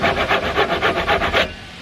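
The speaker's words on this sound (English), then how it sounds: "it's a crosscut and a rip cut saw all in one" A combined crosscut and rip cut hand saw cuts through wood during roof truss bracing in a workshop build. About nine quick, loud, rhythmic strokes are heard close up before the sawing stops.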